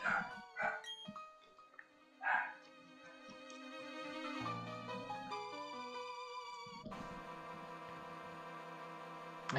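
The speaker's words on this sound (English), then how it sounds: "I hear the dogs barking." Two dogs, Buster and another, bark and yip in short bursts early on, fairly faint, before tonal game music takes over and continues to the end.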